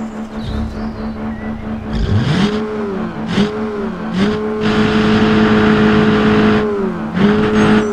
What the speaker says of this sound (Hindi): मैंने अपनी ह्यूंडई क्रेटा में ना एग्जॉस्ट भी लगवा रखा है, तो मैं सुनाऊँगा अभी।